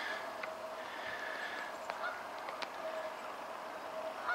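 Distant Canada goose honks and bird calls scattered over a steady outdoor background by water in snow, faint and irregular, with no talking.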